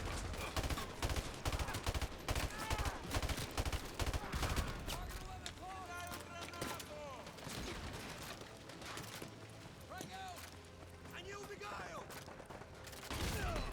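Rapid gunfire and heavy blasts from a grenade in a Call of Duty match, dense bursts of shots crackling close and loud throughout with a few faint voices mixed in.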